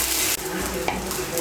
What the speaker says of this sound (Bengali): পেঁয়াজ কুচিটাকে একটু ভেজে নেব।